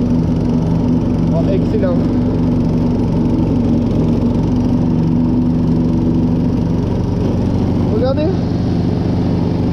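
A quad bike's engine runs steadily throughout while it mows a lawn, a loud continuous drone that stays close with no letup, with someone talking over it.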